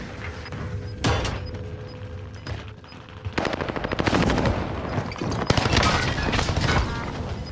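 Video game gunfire on Rebirth Island: scattered single shots first, then sustained automatic bursts and heavy rapid fire, loud and close, with no voices.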